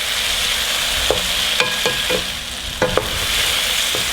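Mushrooms fry in a pan with a steady, close sizzle, broken by a few sharp clicks and scrapes from a utensil stirring them.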